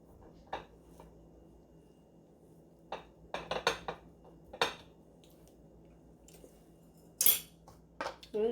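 A regular metal spoon scoops ice cream onto a vegan waffle, giving scattered clinks and scrapes against dish and utensil, with a few sharper knocks near the end over a quiet room.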